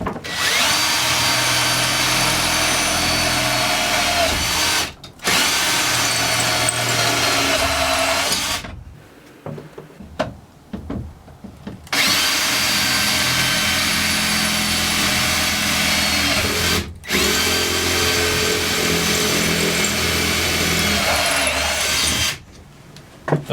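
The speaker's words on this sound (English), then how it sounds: "he's going to start with the pilot hole, which is the smaller bit. So he's going to go ahead and drill the bottom and top holes." A power drill fitted with Milwaukee bits bores pilot holes during a bus conversion into a tiny house, installing a window frame and walls. Long, loud, steady whirring runs are broken by a few short pauses and one longer gap with faint clatter.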